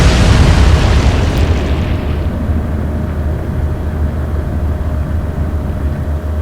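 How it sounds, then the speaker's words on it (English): Torpedo explosions in the Atlantic Fleet naval warfare video game: a loud, sustained deep rumbling boom that fades slowly into a heavy low roar, with no talk. "More depth charges. No action. Oh yes. Here comes the torpedoes."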